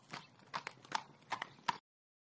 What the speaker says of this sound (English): The brown horse walks by on a nice day.